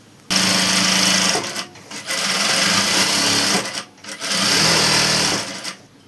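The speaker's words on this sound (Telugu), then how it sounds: "ఇప్పుడు దీన్ని ఇటు సైడ్ తిప్పేసి ఇక్కడ పైన కూడా ఒక కుట్టు వేసుకుందాం." A sewing machine runs in steady bursts while stitching a seam on an umbrella frock, its rapid mechanical whir loud and close, stopping briefly between runs.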